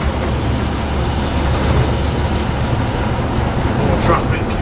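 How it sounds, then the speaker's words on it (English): Road traffic passes close by on a stretch of road, a steady loud rumble of engines and tyres that swells slightly as vehicles go past, with no clear talk over it. "More traffic."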